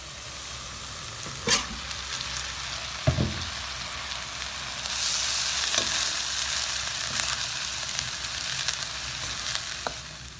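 Rice goes into a hot pan and is stir-fried for Indonesian nasi goreng with soy sauce. A steady sizzle runs throughout, marked by occasional scraping and stirring knocks, and no voices are heard.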